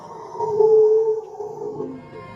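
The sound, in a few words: monster's roar in a horror film recap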